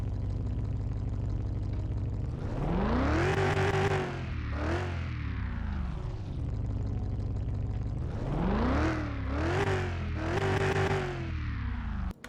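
An overpowered V8 engine in Car Mechanic Simulator 2021 cranks, catches and idles, then revs up twice in rising, falling sweeps, a loud close-up engine note with no talking.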